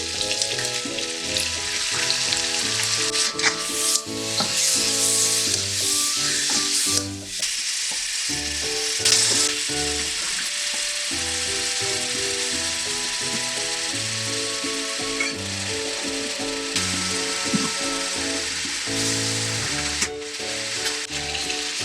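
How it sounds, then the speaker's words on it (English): Squid fries in a pan with a loud, continuous sizzle and crackle, broken by scraping stirs, close up and without any voices. "Then I'm frying my squid."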